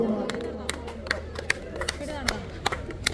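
A crowd at a tug of war match cheers and claps with scattered sharp claps over a steady murmur, while a commentator talks over the noise.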